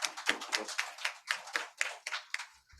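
A small audience at a mission forum on climate crisis claps to welcome a presenter: distinct, fairly quiet claps in a regular rhythm, about ten of them, fading out at the end.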